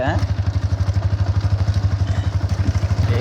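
Loud, close motorcycle engine idling with a rapid, even low throb that continues throughout, a brief clatter near the start.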